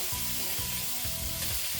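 Rinsed konjac noodles warming in a hot pan give off a steady, close sizzle with a soft crackle throughout, alone without any voice.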